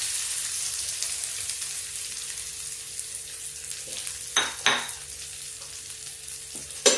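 Cumin, chilli and onion fry in hot oil in a pan, a steady close hiss of sizzling throughout, broken by a few brief stirring scrapes and clinks.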